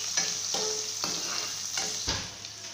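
Onions sautéing in hot oil in a pan, a continuous crackling sizzle broken by a few sharp scrapes or stirs at regular intervals, close and clear, without talk.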